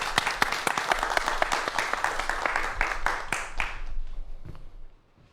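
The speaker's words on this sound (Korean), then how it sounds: "박수 부탁드립니다." An audience applauding a lecturer at a business and brain-science talk: sustained, dense hand clapping with sharp individual claps standing out, fading away after about four seconds.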